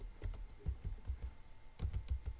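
Typing on a computer keyboard, a quiet, close series of light plastic key clicks in irregular bursts with a brief pause midway.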